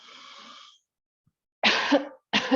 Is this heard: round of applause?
no